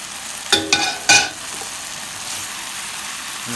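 A pot of stewed grey snapper being stirred, with three quick scraping spoon strokes in the first second followed by a soft, steady simmering hiss.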